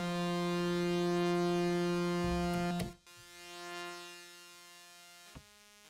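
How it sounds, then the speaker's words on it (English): Subtractive synthesizer tone run through a high-pass filter, a steady thin buzzy drone with stacked harmonics that cuts off abruptly near three seconds, then resumes as a quieter, hollower filtered tone with a brief click near the end. "we have a high pass filter, and generally that just kind of makes it sound like it's on the radio."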